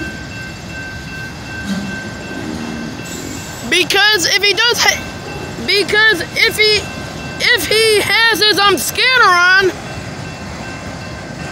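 A train rumbles past a nearby railroad crossing with loud, wavering tonal blasts coming in bursts, while someone talks over the noise.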